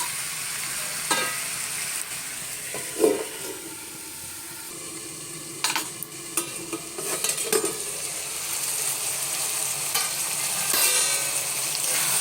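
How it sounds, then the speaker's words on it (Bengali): Catla fish oil and swim bladder fry in a pan with a steady sizzle, punctuated by occasional scrapes and knocks of a spatula as the pieces are stirred, close and moderately loud throughout. "দেখো আরও ভাজা ভাজা হবে, বেশ লাল লাল রঙের হয়ে যাবে ভাজা ভাজা করতে করতে।"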